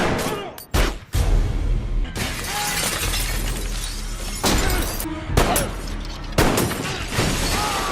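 Gunshots and shattering impacts in an action film scene, loud sharp bursts separated by short gaps, mixed with a rumbling score and brief talk.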